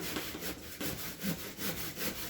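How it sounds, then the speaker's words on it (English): A Stanley No. 27 hand saw rasps back and forth through a thick tree limb in steady, even strokes, quiet and close, with no one talking. "This saw 27 is a very good saw. It's a Stanley."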